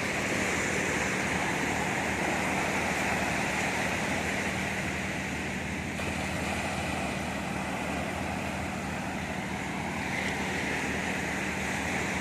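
Sea waves on the beach at Mohammedia, a continuous loud wash of surf with a broad steady roar, wind-like hiss mixed in and no voices.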